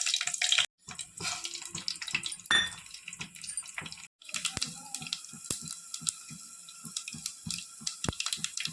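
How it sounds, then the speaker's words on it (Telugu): Dried red chillies and garlic are dropped into hot oil for tempering, giving a close, crackling sizzle studded with sharp, irregular pops and spatters and no talking. "ఆయిల్ వేడైందండి ఇప్పుడు తిరుగుమూత వేసుకోవాలి ఎండు మిరపకాయలు వెల్లుల్లిపాయ"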